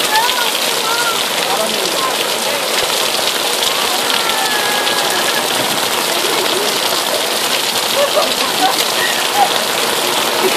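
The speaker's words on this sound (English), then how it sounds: "Go run in this rain." Heavy rainstorm pouring down at Epcot, a loud, dense and constant roar of rain hitting the ground and nearby surfaces, with voices talking faintly beneath the downpour.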